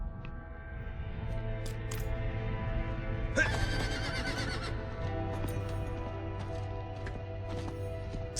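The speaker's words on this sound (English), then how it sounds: "Don't you hate it when you summon your horse" A summoned horse neighs and whinnies in the Diablo 4 video game, loud and close over steady in-game music and ambience, with hoofbeat clip-clops and a brief bright flourish partway through.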